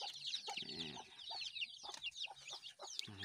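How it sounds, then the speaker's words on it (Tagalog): Young chicks cheep in high, rapid peeps inside a bamboo coop, with a few lower clucks from an adult hen mixed in. The calls are close but soft and fairly continuous. "nalaki na yung sisiw ko"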